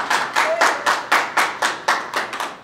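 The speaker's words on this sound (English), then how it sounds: "please join me in giving them a round of applause" An audience at a group meeting claps in a steady, evenly spaced rhythm, about nine crisp claps close by, with no talking over them.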